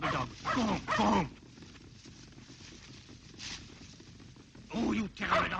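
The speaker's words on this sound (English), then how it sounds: "Oh, will you go home, you terrible dog?" A dog barks in short bursts, a few quick barks at the start and again at the end, with a voice speaking between them.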